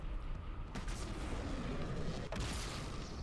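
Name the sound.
sniper jackals firing in video game Halo 2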